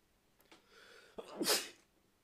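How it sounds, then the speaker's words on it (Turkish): A single loud, close sneeze with a quick breath intake before it, in an otherwise quiet room during a Euro Truck Simulator 2 gaming session. "Ve neden videonun ortasında hapşırasım geldi?"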